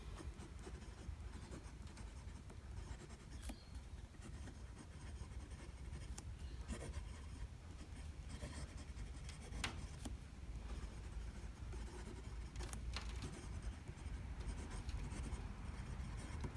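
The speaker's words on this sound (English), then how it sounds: "Let's just do a quick writing sample." Brass Fine Writing International Golden Armour fountain pen nib scratching steadily across paper, a soft continuous scritch with faint strokes and lifts, close and alone.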